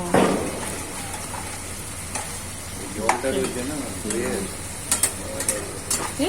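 Chicken pieces frying in oil in a pan, stirred with repeated scraping strokes over a steady sizzle, close and moderately loud, with some talk in the background.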